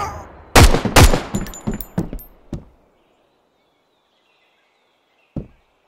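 Burst of gunshots in Road to Vostok, several sharp loud cracks in quick succession, then a fading tail of silence and one last isolated shot near the end.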